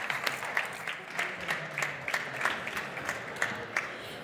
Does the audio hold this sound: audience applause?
yes